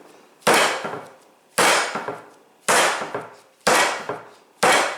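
Bread dough for basic white bread is slammed hard onto a kitchen counter during hand kneading. Five loud, sharp thuds land about a second apart, each with a short decaying tail and no talk between them.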